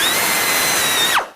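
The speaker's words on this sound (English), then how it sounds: "the drill bit did not want to go through" A drill bit grinds steadily into a heat-treated transmission plate during a Honda transmission rebuild, a loud continuous whine that holds for over a second, then drops in pitch and cuts off abruptly as the drill stops.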